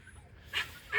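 Excited little tethered dogs let out two sharp, high yaps some distance away, separated by a quiet pause, with a faint background hush.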